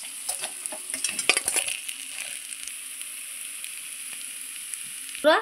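Rui fish frying in hot oil, a soft steady sizzle with a few sharper crackles and spatters early on, then settling to a quiet hiss.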